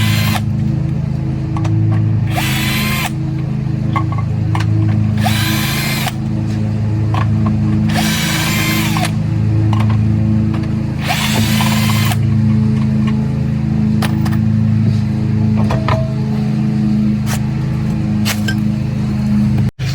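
A power drill removes wheel lug nuts on a Corvette C5, whirring in several loud bursts of two or three seconds each over a steady low mechanical hum, with faint metallic clinks in between.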